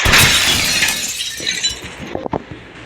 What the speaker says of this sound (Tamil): நம்ம கண்ணாடி வெடிப்போம்